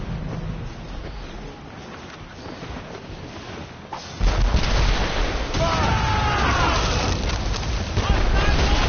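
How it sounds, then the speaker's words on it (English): Cannon fire from sailing ships in a naval battle in Assassin's Creed Rogue Remastered: a heavy broadband boom hits about halfway through, then loud, sustained rumbling continues, mixed with shouted voices. "They're firing, sir!"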